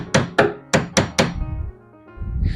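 A hammer knocks on an old wooden desk being pried apart in a garage, five sharp thunks in quick irregular succession followed by softer scraping and shifting wood.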